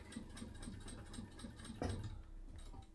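A home sewing machine stitches a label onto a fabric card holder, a quiet, rapid, even mechanical whirring with a small clunk near the middle, heard close with no voices.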